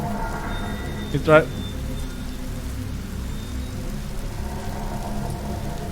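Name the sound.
rain falling in video game The Shopping List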